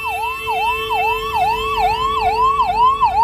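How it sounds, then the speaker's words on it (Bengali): A police ambulance siren wails in a rapid repeating up-and-down cycle, loud and close and steady throughout, at a district police Republic Day parade in Medinipur Police Lines. "অ্যাম্বুলেন্স"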